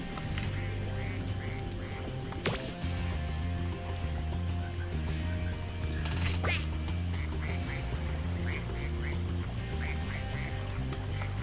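A mama duck in the video game Spyro 2: Ripto's Rage quacks in a steady run of short calls over a constant background hum and game music, with a couple of sharp clicks mixed in.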